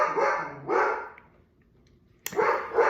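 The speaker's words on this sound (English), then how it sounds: "My dogs are barking." Dogs bark indoors in a few sharp bursts. Each burst lasts under a second, and there is a quiet gap before the last one.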